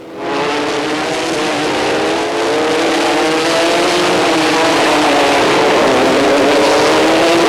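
Formula 3 race cars from the 1988 French championship scream around a circuit, a loud continuous high-revving engine roar that holds steady and rises slightly as the cars pass close by.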